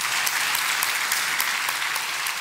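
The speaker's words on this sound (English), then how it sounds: "Can we give her a bit of a clap?" A public talk audience gives a dense, even round of applause to welcome a speaker. The crowd clapping stays steady and close, with no voices over it.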